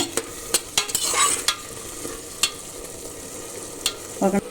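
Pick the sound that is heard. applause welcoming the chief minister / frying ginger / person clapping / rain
frying ginger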